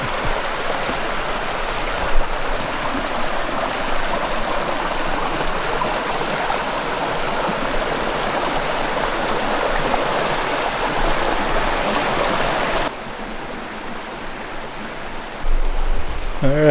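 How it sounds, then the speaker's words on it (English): The Kennebec River flows and rushes steadily nearby along the Appalachian Trail, a continuous broad roar of moving water that shifts slightly toward the end. "Alright, I'm coming up on the Kennebec River."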